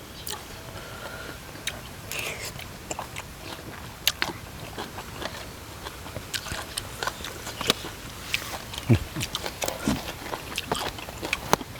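Close-up crunchy biting and chewing of raw chili while eating a spicy Thai laab meal outdoors in rain, irregular sharp crunches and clicks, moderately quiet.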